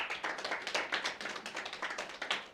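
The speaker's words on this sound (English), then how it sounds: "We can give Ma'am Sibu a round of applause." Scattered applause from members on an online basketball draw call, a quick patter of claps repeating steadily for a few seconds, fairly faint and thin, with no talking over it.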